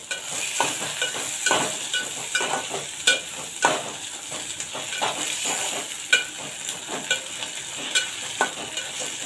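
Ginger-garlic paste sautés in oil in a pan for tondli bhaat, a steady sizzle broken by repeated scraping stirs of a spoon at an uneven rhythm, close and clear with no talking.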